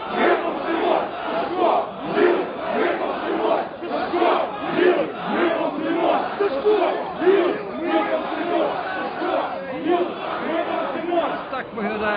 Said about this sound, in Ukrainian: Сашко Білий, ми помстимося, вигукують учасники цієї акції.